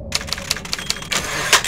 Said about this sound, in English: It's only a typewriter.